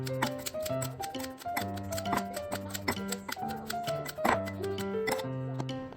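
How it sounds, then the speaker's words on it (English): A knife chops fresh cilantro on a cutting board in a steady series of quick, close taps. "let me cut this cilantro real fast"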